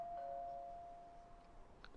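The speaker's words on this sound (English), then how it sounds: "Stop ringing the doorbell!" A doorbell rings in the horror video game Ju-On: The Grudge: a single faint, sustained chime tone that holds for about a second and a half, then fades into quiet background noise.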